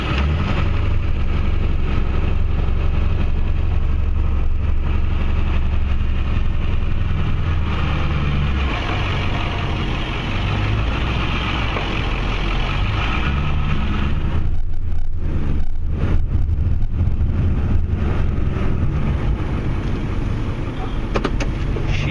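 A Ford F250 Super Duty with a 7.3 Powerstroke engine plows snow. Its engine runs loud and steady throughout, with a mechanical whir partway through.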